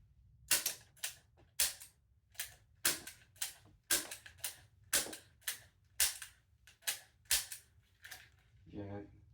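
Realistic Nerf revolver toy gun firing about fifteen sharp snapping shots in a steady rhythm, close and loud, followed by a brief rattling click at the end.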